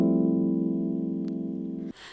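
A sustained extended chord on a keyboard, voiced with the G lowered, rings steadily and warm up close, then cuts off abruptly near the end, leaving a brief soft rustle.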